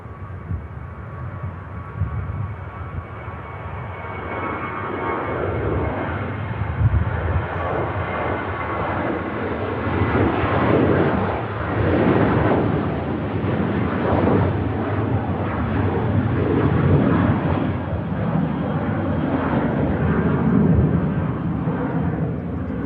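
Ryanair jet bound for Berlin at Manchester Airport, a steady broad roar of jet engines that swells gently in the middle and holds loud throughout, with no talk.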